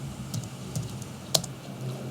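Someone types a web search on a computer keyboard: a short run of close, soft keystroke clicks at an uneven pace, with one sharper tap standing out.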